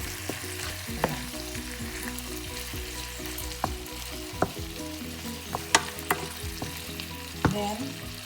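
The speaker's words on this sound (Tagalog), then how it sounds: "Haluin muna natin sa ating chicken." Chicken pieces fry in a pan for a lemongrass coconut dish, with a constant close sizzle and scattered spatula scrapes and taps as they are stirred.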